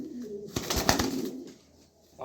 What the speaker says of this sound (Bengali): এই দেখেন একটা কবুতর